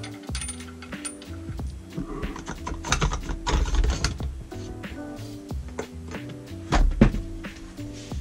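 Clattering knocks and thunks of a fold-down table being fitted and bolted into place inside a Sprinter camper van, irregular metal and plastic clunks close by with a louder bump near the end, no talking.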